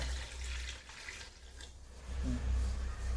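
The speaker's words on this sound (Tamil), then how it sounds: "இந்த தண்ணி ஊற்றுறேன், பார்த்துக்கோங்கப்பா." Water poured into a pot of chicken biryani in a home kitchen, a soft steady splash and trickle, fairly faint, growing a little heavier toward the end, with no talk.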